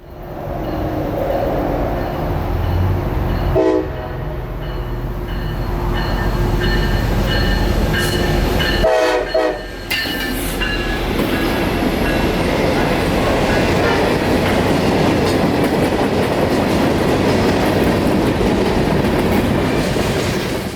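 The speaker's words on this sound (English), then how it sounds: "another southbound mixed freight is just on the horizon" A long southbound mixed freight train in Central Florida rolls past close by, rumbling wheels and clattering cars with metallic squeals, loud and continuous for the whole stretch.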